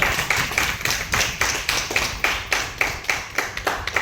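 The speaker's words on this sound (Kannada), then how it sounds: "ಜೋರ ಚಪ್ಪಾಳೆ" A crowd at a Modicare gathering claps loudly and steadily, with rhythmic clapping surging in regular waves for the whole stretch. Nobody talks.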